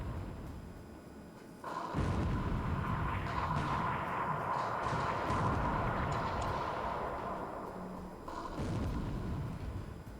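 Artillery fire in War in the Pacific, with 20 cm shells hitting a battleship as a steady rumbling barrage of booms that starts abruptly, holds for several seconds and dies down before one more burst.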